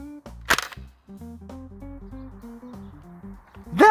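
A Zuru X-Shot Turbofire toy blaster fires its final shot, a sharp mechanical snap near the start and another burst at the end, with soft music or tones in between.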